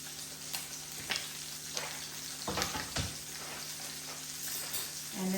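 A coral trout fillet fries skin-down in hot oil, giving a steady, close sizzle with occasional louder pops and crackles as it cooks, and no one speaking.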